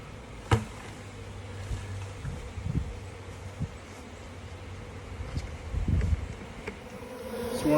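A swarm of honey bees buzzes steadily throughout, a dense droning hum with a few louder passes of individual bees close by, no talking.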